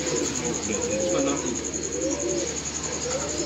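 Domestic pigeons coo in a loft, a low rolling warble repeating steadily and close, layered over a constant hiss, with someone speaking over the birds.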